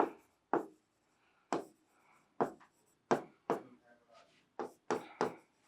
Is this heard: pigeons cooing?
no